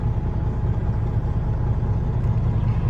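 A 2014 Peterbilt 389 glider truck's diesel engine runs at a steady idle, a deep continuous rumbling drone heard up close and alone with no talk.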